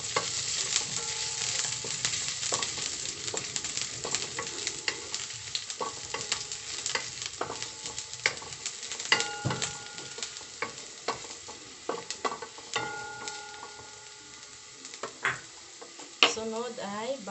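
Ginger frying in cooking oil, with steady sizzling broken by frequent stirring clatters and scrapes of a utensil in the pan, close and moderately loud throughout.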